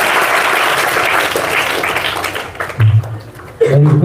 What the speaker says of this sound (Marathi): श्रेष्ठ सानपच्या नावाने एकदा जोरदार टाळ्या आणि तिच्या नावाने एकदा जोरदार टाळ्या